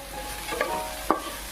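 Egg frying in a pan for kothu parotta gives a steady soft sizzle, with two brief scraping stirs of a spatula close by and no voices.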